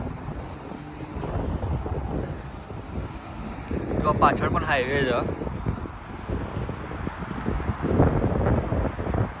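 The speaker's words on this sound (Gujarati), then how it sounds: "પવન તો તમે જોઈએ અવાજ આવતું છે બરાબર" Strong cold wind roars and buffets the microphone in a steady low rumble while someone talks over it, beside a highway in the United States.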